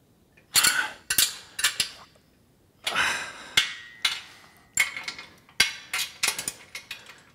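Metal tools click and clank in short irregular bursts while bolts are tightened during assembly of a Body Solid EXM3000 gym machine, about a dozen sharp close taps and ratcheting clinks with quiet gaps between.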